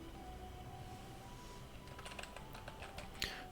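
Keys clack on a computer keyboard in a quiet room, a light irregular run of taps building toward the end, with a steady faint hum underneath and no talking.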